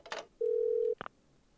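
In the Parasite Eve II video game, a telephone gives a short electronic beep followed by a sustained steady tone lasting about half a second. A brief blip comes after it, clean and close.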